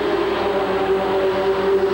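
A loud V6 mud racing truck engine of about 500 horsepower rumbles steadily with a droning hum, sounding close and continuous, with no voices present.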